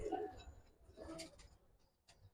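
A pair of pigeons coos faintly in a couple of brief, soft phrases, close but quiet.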